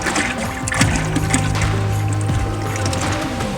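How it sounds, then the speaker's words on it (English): Liquid pours into a turkey fryer pot in a steady, continuous gush of splashing and trickling, close and fairly loud, with no pauses. "we are gonna fill this pot up to the line"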